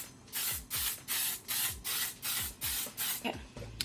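A L'Oreal Infallible 36-hour setting spray bottle hisses in a quick series of about seven short, even bursts, close up, with a faint mechanical click between pumps.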